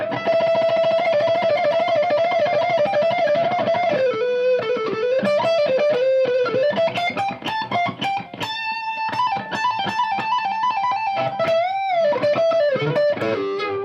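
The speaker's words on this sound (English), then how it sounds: "even when you have a ton of distortion on there, if you play fast, it doesn't fuzz everything out" A heavily distorted electric guitar plays a continuous fast, busy line, loud and sustained throughout with no voices.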